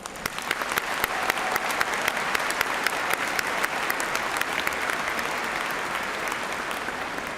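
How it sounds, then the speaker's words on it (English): Commencement audience applauding three groups of outstanding student scholars at a college ceremony: sustained, even crowd clapping from a large hall, dense and steady throughout the stretch with no voices. "Let us honor these 3 groups of outstanding student scholars one more time with applause."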